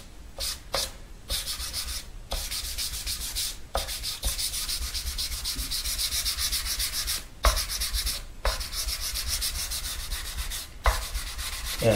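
Steady hand sanding of filler and cured epoxy on the body of a custom nine-string electric guitar, with long rhythmic strokes near and loud, broken by short pauses between passes and no talking.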